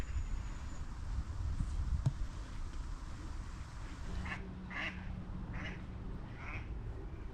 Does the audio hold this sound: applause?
no